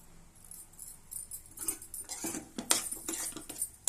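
A spoon clinks and scrapes softly in a pan while cardamom powder is stirred into sweet potato halwa sweetened with jaggery, a close, quiet run of irregular metallic taps.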